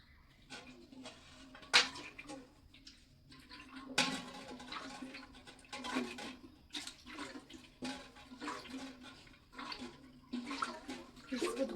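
Water splashes and sloshes into a bucket as it is rinsed out in a hill-country home, close, uneven pouring with scattered clanks and no talk.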